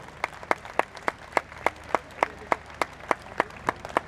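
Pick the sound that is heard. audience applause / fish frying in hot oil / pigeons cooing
audience applause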